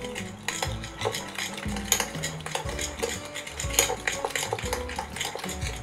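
A pork rib marinade with salt and sugar being mixed: a spoon scrapes and clinks against a bowl in a quick, steady stirring rhythm, close up.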